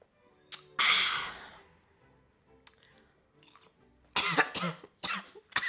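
Several coughs: a loud, harsh burst near the start, then a cluster of sharp coughs later, with quieter gaps between.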